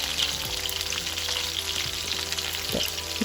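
Chicken pieces frying in hot oil for chilli chicken, a steady dense sizzle and crackle throughout with a few soft clinks of a utensil stirring in the pan.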